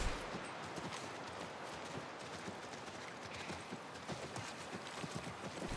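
Horse hooves clip-clop in The Last of Us Remastered on PS5, a faint, steady patter of soft knocks buried in a dense wash of game noise.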